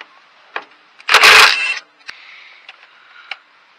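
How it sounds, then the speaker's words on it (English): A wrench working a bolt loose on a Case Ingersoll tractor: a few faint metallic clicks, one louder grinding scrape as the bolt turns, then scattered light taps and clicks. "And off the bolt comes."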